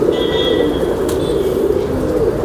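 A pigeon coos softly against a steady background hum, a short low murmuring call over about two seconds.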